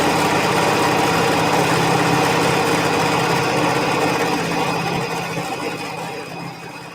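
A sewing machine stitches a scant quarter-inch seam on a pillowcase with a fast, steady mechanical whir. It runs continuously near the listener, then slows and fades toward the end, with no voices.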